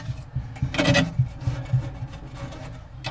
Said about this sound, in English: strip all of the silicone out of the entire aquarium